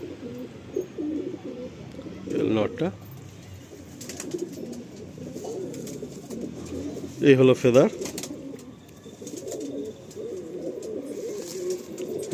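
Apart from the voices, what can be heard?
Madrasi pigeons cooing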